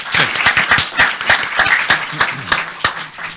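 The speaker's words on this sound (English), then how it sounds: "let's give them a round of applause" Audience applause for panelists after a discussion of Israel, Iran and Afghanistan, a close, loose burst of individual claps with distinct sharp hits, fairly loud and uneven, thinning slightly toward the end.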